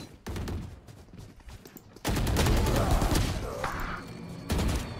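Valorant firefight with rapid gunfire: a crackling string of shots, then a dense, loud sustained burst of fire and one last volley near the end, under faint background game noise.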